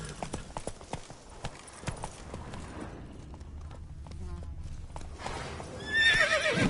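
Horse galloping in the video game Witcher 3, rapid rhythmic hoofbeats clopping up close, followed by a loud neigh near the end, with faint game ambience underneath.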